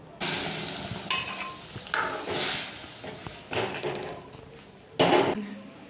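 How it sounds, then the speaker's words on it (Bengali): Dal is poured into a hot tempering of cumin and dry red chilli, giving a burst of loud sizzling with stirring scrapes and pan clatter coming in waves, then a final sharp hiss. "এবার ফোড়নটা হয়ে গেছে, ডালটা ঢেলে দেবো"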